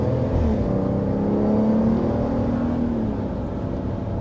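A 2025 RAM 1500 Tungsten or 2024 GMC Sierra Denali Ultimate pickup accelerates through its 8-speed automatic, a steady low engine drone with a slowly rising tone heard from inside the cab.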